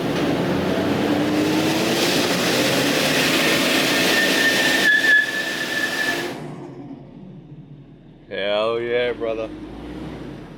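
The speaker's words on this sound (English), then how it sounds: "First skid in the JZX." A Toyota JZX100 Chaser imported from Japan roars under load as its tires break loose in a long skid, with loud engine and tire noise for several seconds that fades out before voices come in.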